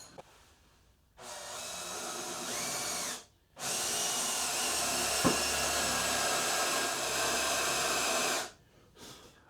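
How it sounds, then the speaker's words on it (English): A power drill whirs loudly in two long runs, drilling out a hinge mortise in wood, its pitch shifting slightly as it bites into the wood, with short quiet gaps between. "now I'm going to drill that out a bit deeper than it needs to be"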